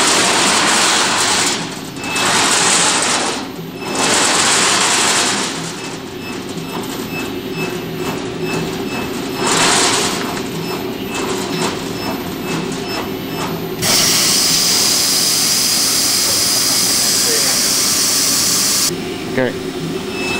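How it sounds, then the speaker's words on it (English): An Amada Octo turret punch press cycles without a sheet, punching air, giving a loud, steady mechanical rumble and hum with periodic swells and knocks, and people talking over the machinery. "We're just going to punch air here so we can get to the point in the program where we reposition the sheet."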